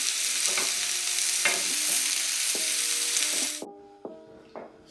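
Chicken kababs sizzle loudly in oil in a karahi, Peshawari street-food style, with stirring and flipping scrapes; the frying hiss cuts off near the end, leaving a few sharp metallic taps.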